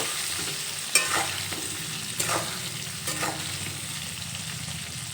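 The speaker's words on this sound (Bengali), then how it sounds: "এবার কিছুক্ষণ নেড়ে চেড়ে নেব।" Eggplant pieces tossed with salt and turmeric in a hot pan, a constant close sizzle with three distinct scraping stirs spaced about a second apart, nobody speaking.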